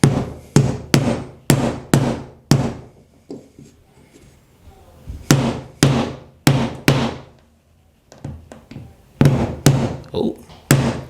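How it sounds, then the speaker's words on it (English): A rubber hammer strikes a Goldblatt trim puller while prying trim off a wall, giving close, loud, hollow thuds in quick bursts of four or five blows, separated by short pauses with faint scraping and handling sounds in between. "I want to use a rubber hammer because I don't want to put too much dings"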